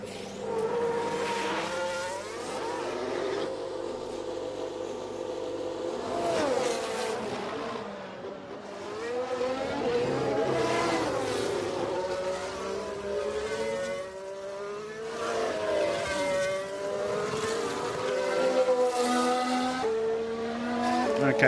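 Formula 1 cars lap Marina Bay or Suzuka in F1 Manager 22, their high, whining engine notes sweeping up and down continuously as they pass, with faint voices mixed in.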